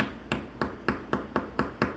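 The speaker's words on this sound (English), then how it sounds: "And then I just take my hammer and" A hammer gently taps a hub onto a slot car axle, eight light, evenly spaced strikes at a steady rhythm, close and crisp with no talking.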